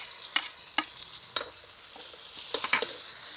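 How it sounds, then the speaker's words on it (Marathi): Finely chopped tomato goes into a pan of sautéed ginger and garlic for methi dal tadka, stirred in a soft sizzle; a spatula scrapes the pan in scattered sharp strokes over the quiet frying. "आता बारीक चिरून घेतलेला टमॅटो टाकून घेऊ"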